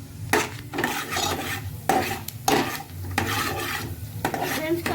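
A ladle stirs semolina upma with onions in a metal pan, giving repeated scraping rasps and knocks in an uneven rhythm, close and clear, with no voices.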